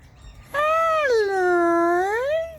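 Wild galahs calling in the afternoon: one loud, drawn-out screeching call with a sliding, wavering pitch, close by and clear, lasting about two seconds over quiet background, no talking.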